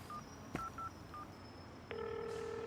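Short phone-keypad tones beep a few times, then a steady electronic ring or dial tone sets in and holds; a scene in a Hindi-dubbed South Indian film.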